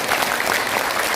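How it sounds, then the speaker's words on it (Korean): Audience applause at a Korean political forum, a short stretch of dense, steady clapping from a crowd. "박수 한번 줍니다."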